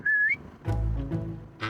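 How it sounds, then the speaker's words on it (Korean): A brief rising whistle from a person whistling at sheep in Ireland, close and clear, followed by a deeper voiced call and a short sharp tail, all within under two seconds. "양에게 휘파람을 불어봤는데"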